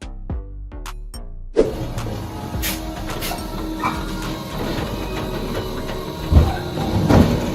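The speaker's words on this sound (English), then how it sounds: "This is a vacuum truck designed to extract and transport liquid waste, sludge, and sewer materials safely." Vacuum truck for extracting liquid waste, sludge and sewer material, its machinery running with a steady mechanical whir after a few sharp clicks, with clanks and rattles rising near the end.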